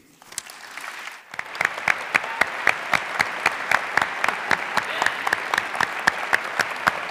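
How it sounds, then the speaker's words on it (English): An audience at the 2017 Arctic Inspiration Prize awards ceremony applauds the laureates, settling after a brief murmur into steady, rhythmic clapping that stays loud and even throughout. "please give a huge round of applause for the laureates"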